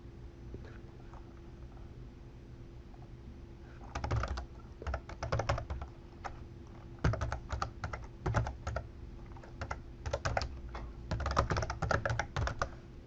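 Manual typing on a computer keyboard while entering an ESXi software update command, coming in bursts of rapid key clicks separated by pauses, close and clear over a low steady hum.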